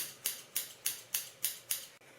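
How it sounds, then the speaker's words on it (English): Six evenly spaced crisp snips of scissors point cutting hair, sharp and close, in a steady rhythm with no talking. "So now I'm just gonna kind of point cut a little bit."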